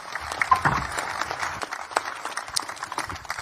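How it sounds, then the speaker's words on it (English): Press conference crowd at the 2025 Pro Motocross preseason event in Pala, California gives the 450 rider panel a round of applause, scattered uneven clapping at moderate volume with a voice briefly audible early on. "Big round of applause"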